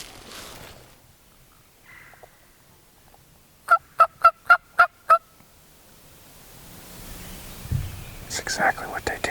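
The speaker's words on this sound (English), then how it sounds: "Gobbled once. He sounded pretty deep." A wild turkey gobbles once in a spring woodland on public land in Mississippi, a rapid rattling burst of about six pulses. It sounds moderately distant, and hunters whisper quietly before and after it.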